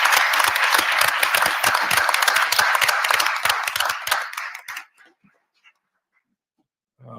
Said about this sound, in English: ask everybody to give a round of applause to the employees for the Village of Dalton